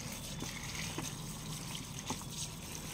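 Lotus tubers being washed by hand in a container of clean water during repotting, with soft, continuous splashing and trickling close by and faint sloshing throughout.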